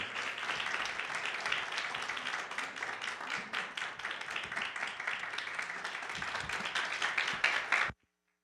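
Congregation in a Korean church Sunday worship service applauds to welcome a missionary speaker to the pulpit: dense, sustained clapping from a large crowd, steady for about eight seconds before stopping abruptly.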